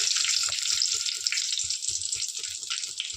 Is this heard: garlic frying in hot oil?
yes